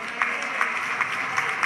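Audience applause at a charity fundraising fiesta, a steady wash of many hands clapping with slight rhythmic peaks, fairly close and sustained without voices over it.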